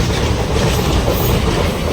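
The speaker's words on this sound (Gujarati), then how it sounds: "રેલગાડી આવી ગઈ છે" A train with special coaches rolls past near a river, a dense close rumble of wagons with steady clickety-clack over the whole stretch, loud and continuous.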